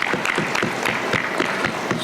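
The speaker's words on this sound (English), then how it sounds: "A big round of applause to managing committee members of the Bangalore branch" A hall audience at the inaugural session of a Karnataka state-level conference in Bangalore applauds together, a loud sustained round of clapping with a slightly pulsing rhythm throughout.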